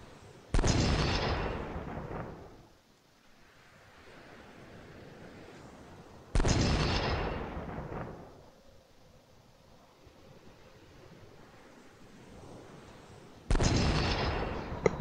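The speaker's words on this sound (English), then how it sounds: "Whoa! There's some bigger guns." Big naval guns boom in the video game 1914 Shells of Fury, three heavy, loud blasts spaced several seconds apart, each trailing off into a rumbling decay over quiet background.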